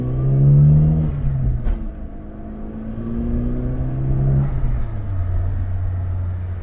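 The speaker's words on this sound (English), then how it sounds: "You can still get the turbo spinning, the blow-off valve even doing its thing." A Daihatsu Mira TR-XX Avanzato Turbo kei car with a swapped engine climbs through the revs while driving, then a sharp blow-off valve whoosh releases. A second rise and hiss follows, over steady road rumble heard from inside the cabin.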